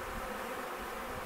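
Bees from a barrel hive rescue buzz in a dense, continuous drone, a close and even swarm hum filling the whole short moment with no voices.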